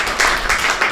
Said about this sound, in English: So please clap once.